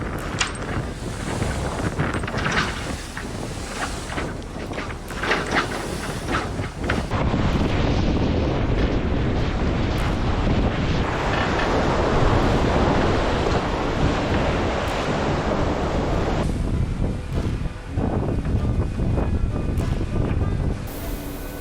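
Strong gusts roar across the deck of a Vendée Globe 2024 racing sailboat in heavy seas, with waves crashing and wind buffeting the microphone in a loud, relentless wash. No one speaks.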